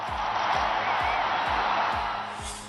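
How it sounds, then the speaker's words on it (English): A large crowd roars as Pope Francis, newly elected in 2013, emerges before Catholics. The loud, sustained roar holds steady throughout, with a rhythmic low thumping repeating underneath. "He emerged to a roar from the crowd"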